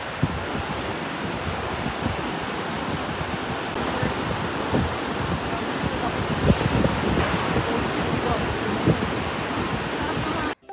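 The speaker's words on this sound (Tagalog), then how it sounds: "Paparinig ko nga rin pala sa inyo yung hampas ng alon kasi nakaka-relax talaga to." Ocean waves wash and crash continuously onto a beach in Japan, a dense roaring surf with occasional louder breaks, steady throughout.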